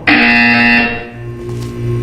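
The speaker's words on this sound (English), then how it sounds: "You will hear a buzzer. When you hear the buzzer, look up at the ceiling." A loud electronic buzzer in Portal 2 sounds as a single sustained tone lasting under a second, followed by a lower steady hum and faint ambient tones.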